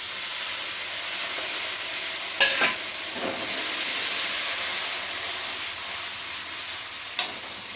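Spice paste hisses and sizzles steadily in a hot pan as water is added while fish is cooked, with a few clinks of a spoon or pan, close and alone without speech.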